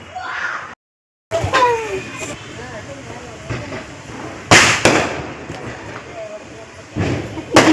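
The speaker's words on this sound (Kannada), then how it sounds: "ಎಲ್ಲ ಪಟಾಕಿಗಳನ್ನು ಹಚ್ತೀವಿ ಇವಾಗ" Sharp broadband bangs of firecrackers burst out at irregular moments, one loud blast standing out, with voices and background commotion in between.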